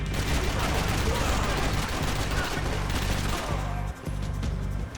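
Gunfire in the action shooter Max Payne 3, a sustained, dense barrage of rapid shots and crackling fire that fills the whole moment loudly before briefly dipping near the end.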